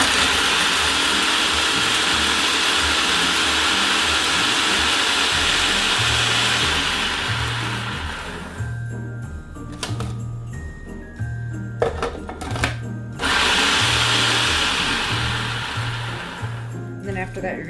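Food processor crushing cookies, a loud continuous whirring motor grind that drops off partway, with rattling bursts as the crumbs are pulsed, and a person talking over it.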